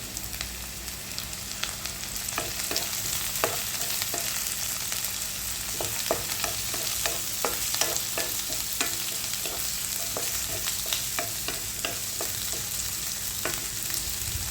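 Shallots, garlic and curry leaves sauté in a pan for a chicken chilli curry, giving a steady, close sizzle throughout. A utensil stirs the pan with frequent scraping clicks, and no one speaks.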